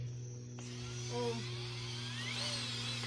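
Power drill boring a new hole through a Nike Air shoe, a steady high-pitched whine and buzz that jumps louder just after starting and holds through to the end, close and alone.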